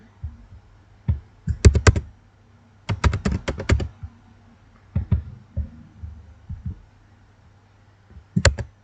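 Keys tapped on a computer keyboard while working in an Excel spreadsheet, short clustered bursts of clicks separated by pauses, close and clear with no talking.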